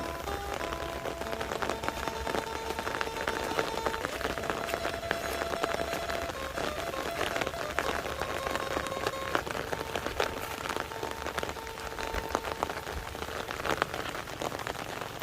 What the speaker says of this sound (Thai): ฝนตกแบบนี้ นะครับ